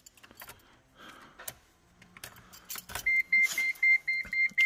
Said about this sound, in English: you're gonna turn your key on to the on position